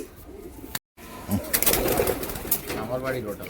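Madras pigeons coo softly close by in a loft, their low burbling calls sitting under a voice speaking over them, with a brief dropout early on.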